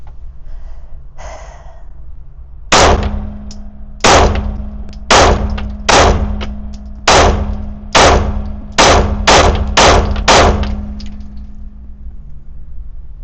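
Glock pistol fired repeatedly at an outdoor range, about ten sharp loud cracks in an uneven sequence, some spaced a second apart and others fired in quick pairs, each followed by a brief ringing tail.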